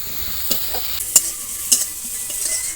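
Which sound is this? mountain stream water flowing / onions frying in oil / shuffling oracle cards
onions frying in oil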